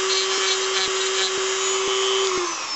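A rotary tool sands the sharp flat edges of a gold anchor necklace, a steady high-pitched whine with a constant tone and faint rhythmic ticking, close and continuous.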